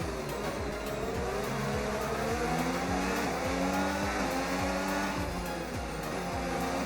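F1 car engine in the F1 25 racing game, a high sustained whine with rising and falling pitch as it accelerates and shifts gears during an overtake with DRS, continuous and fairly quiet.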